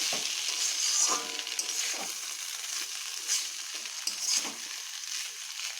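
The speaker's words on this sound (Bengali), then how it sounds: "আরও একটুক্ষণ কষিয়ে নিতে হবে" Pointed gourd curry sautés in a pan, a close, continuous sizzle with repeated soft scraping stirs every second or so and no voices.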